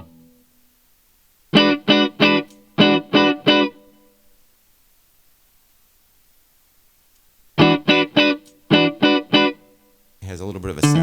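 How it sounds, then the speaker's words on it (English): An electric guitar with a humbucker pickup plays through fuzz and a Strymon El Capistan delay pedal, sounding as two clusters of short, sharp distorted stabs separated by silence, followed by a sustained chord. "Add a little bit of fuzz, just so we got fuzz with a humbucker pickup."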